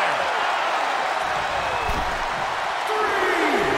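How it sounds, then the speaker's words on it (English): A wrestling arena crowd roars in a steady, dense wash of cheering during a match, loud and continuous with faint claps and thuds beneath. "The sound of this crowd is deafening, and he's asking for more."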